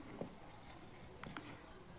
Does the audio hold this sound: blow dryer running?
no